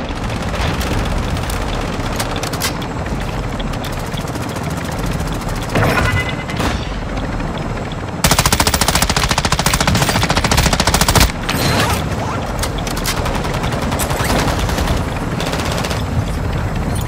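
Sustained automatic gunfire in the shooter Call of Duty DMZ, loud and continuous with dense rattling bursts, one especially intense stretch, and a helicopter droning in the mix.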